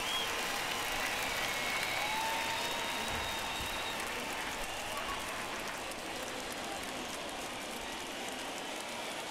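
A home crowd cheers and roars in a simulated ballpark in MLB The Show 21, a Baltimore Orioles versus New York Mets game, as a steady, dense wash of applause and crowd noise.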